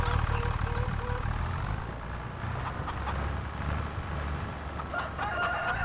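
Chickens at a feeding place in the video game Farming Simulator 25 cluck and crow steadily over the constant drone of an idling tractor engine, with no talking.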